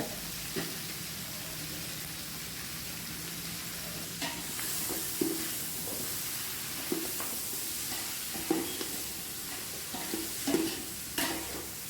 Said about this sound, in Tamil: நல்லா அடிப்பிடிக்காமல் நல்லா வந்து கிளறி விட்டுட்டே இருங்க